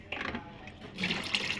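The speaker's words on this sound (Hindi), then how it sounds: "ये देख सकते हैं आप, पंप हमारी पानी उठा रही है।" Water pumped up by the small submersible pump of an air cooler, a steady trickling and splashing flow that swells louder and brighter partway through, heard close and alone.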